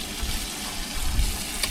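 Water rushing through a tankless water heater and its hot water lines to flush out vinegar, a steady hissing, gurgling flow with a faint crackle, constant and moderately loud.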